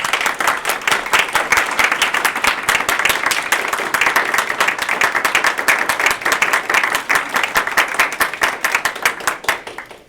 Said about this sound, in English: join me in a round of applause in appreciating the Lamar CISD Board of Trustees